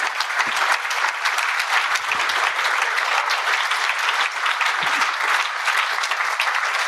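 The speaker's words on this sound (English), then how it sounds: "Let's give the panel a round of applause." Audience applause for a panel discussion on populism, filling a hot hall with dense, steady clapping from a large crowd that holds at an even loudness throughout, with no voices over it.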